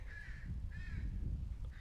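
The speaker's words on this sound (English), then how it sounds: "Shut up, crows." Crows caw a few times in the distance, harsh repeated calls over a steady low wind rumble.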